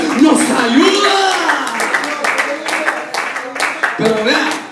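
A church congregation clapping as an offering to God, a steady crackle of many hands applauding while voices call out and sing loudly over it throughout.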